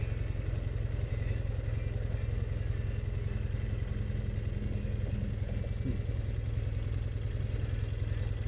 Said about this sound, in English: Bike's idling pretty good.